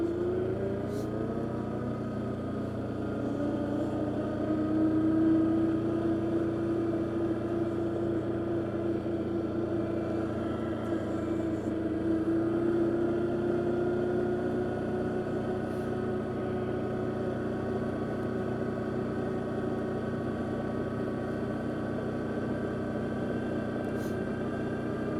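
An Arctic Cat Diesel 700 off-road vehicle idles roughly on a trail ride, a steady close, noisy clattering drone with slowly shifting engine tone for the whole stretch.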